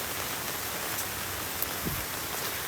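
Rain falls steadily on the slopes of Gunung Salak, an even close hiss of drops with a couple of brief brighter spatters, no talking heard.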